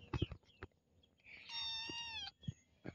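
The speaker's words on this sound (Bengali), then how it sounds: "আমার এই বিড়ালটা খুব অসুস্থ হয়ে গেছে।" A sick red cat meows once, a drawn-out, fairly faint cry lasting about a second. It sits amid soft rustling and quiet background noise.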